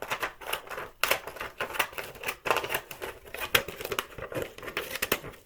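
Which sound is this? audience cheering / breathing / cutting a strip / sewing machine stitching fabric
cutting a strip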